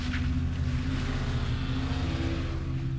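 A Mercedes backing out of a garage and speeding off, its engine a steady droning hum with a constant low tone, close and even in loudness throughout, no voices.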